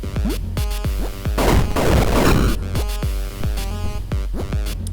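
Retro-style video game shotgun with bullet spread, sharp shots fired in quick rhythmic succession over bouncy game music, with a dense noisy burst in the middle.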